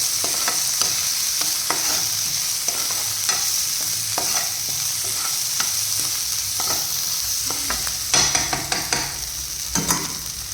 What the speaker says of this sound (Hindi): इसको इस तरह से मिक्स करके सेंटर में कर लेते हैं।